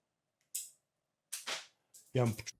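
Three sharp, quick snaps of a small LEGO toy cannon launching projectiles, spaced apart in a quiet room, followed by a brief voice at the end.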